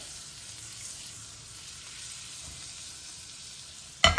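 Omelette cooking in butter in a pan for a cheese omelette: a soft, steady hiss of frying, faint and even throughout, ending in a sudden sharp clatter.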